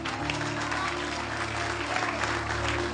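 A church congregation at a prophetic service applauds in sustained, dense clapping that fills the room, loud and even throughout with a faint background hum.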